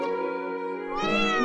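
A cat in the Tokyo Xanadu eX+ game meows in a steady, drawn-out call that rises into a brighter, more insistent meow near the end, close and clear with no talk.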